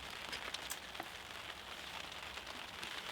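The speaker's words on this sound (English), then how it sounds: "And yes, the rain has begun." Rain falling on a surface at an outdoor concrete pour site, a steady soft patter of drops with occasional sharper ticks, moderate and continuous with no voices.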